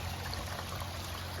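Stream water flows in an even, continuous rush, steady and moderately quiet with no breaks.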